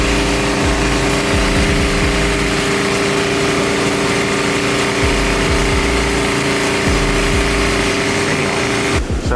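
A 2000 Mustang GT V8 idling as it warms up, a steady, loud low rumble with a slightly uneven burble throughout, heard close and alone.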